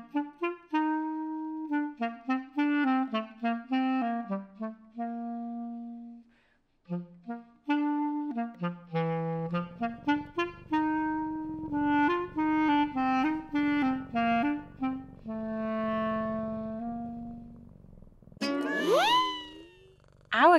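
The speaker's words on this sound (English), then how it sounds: "Now I'm going to play some cat music on my clarinet." A clarinet plays a playful cat-themed tune in a run of short, bouncy notes and longer held tones, finishing with a bright, sliding, meow-like flourish, up close and alone.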